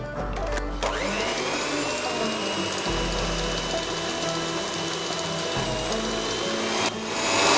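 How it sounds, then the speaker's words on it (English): An electric hand mixer whisking cake icing at a slower speed, a loud, steady mechanical whir with a rattling gear tone that persists throughout, with small shifts in pitch as the beaters move through the bowl. "give it another whisk, but now on a slower sort of speed"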